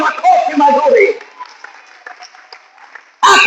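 Congregational applause bursts out at a church worship service, loud and dense at first, fading under a preacher's voice, then surging again abruptly at the end.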